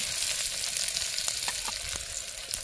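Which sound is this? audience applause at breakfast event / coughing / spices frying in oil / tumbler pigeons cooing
spices frying in oil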